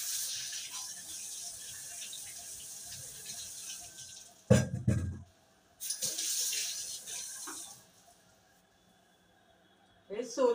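Water runs from a tap over peeled potatoes, a gushing splash that starts and stops in bursts with short quiet gaps between them, and handling noises follow near the end.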